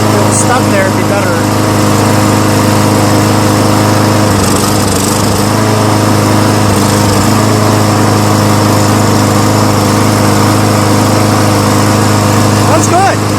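A lawn mower engine runs steadily and loud throughout, a constant droning hum with a few brief changes in tone, while people talk over it.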